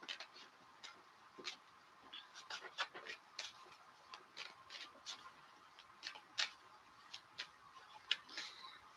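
Playing cards being shuffled by hand, a faint series of quick riffling snaps and taps in an irregular rhythm, recorded close in a quiet room.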